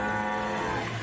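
A cartoon cow in the animated film Sir Billi gives a single drawn-out moo, loud and close, filling the whole short moment with no talk over it.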